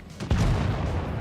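A tank gun in a combat video game fires once with a loud, sharp boom that lingers briefly in a rumbling tail.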